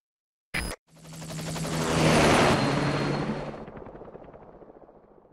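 A military helicopter in Metal Gear Solid V: The Phantom Pain rises from a brief burst into a loud, close, whirring rotor roar that swells, then fades with a rhythmic chop, with no talking.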